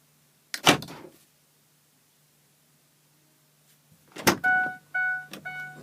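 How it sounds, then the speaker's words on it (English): Door locks on a 2002 Ford F350 pickup actuate with the key left in the ignition: a sharp mechanical clunk, silence, a second clunk, then a repeating electronic warning chime. "now I'm going to lock the doors."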